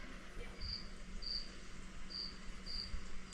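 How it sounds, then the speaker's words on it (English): Crickets chirp outdoors in short, evenly spaced trills, four clear pulses over a low background rumble, with no talking. "Crickets."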